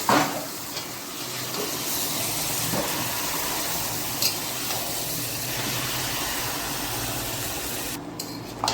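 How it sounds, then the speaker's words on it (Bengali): Marinated meat, left to marinate for an hour, hits hot oil in a pan and sizzles in a loud, steady hiss that continues throughout, close by with no voices. "এবার আমি এই 1 ঘন্টা আগে থেকে ম্যারিনেট করে রাখা মাংসটা দিয়ে দেব।"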